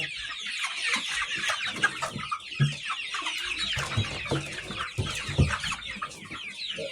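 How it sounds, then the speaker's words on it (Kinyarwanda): Chickens cluck and chatter close by in a farm setting, a busy flock of repeated short calls with a few louder bursts, no speech heard. "Rando, akaba yoroye inkoko mu murenge wa Ubwoko mu murongo wa Kivu"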